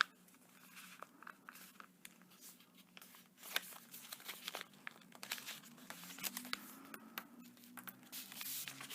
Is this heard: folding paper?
yes